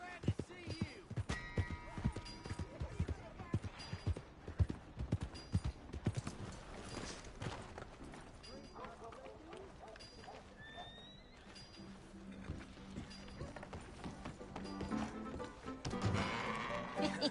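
A horse's hooves clip-clop in Red Dead Redemption 2, with steady hoofbeats, snorts and a whinny at moderate volume, mixed with game ambience and someone talking.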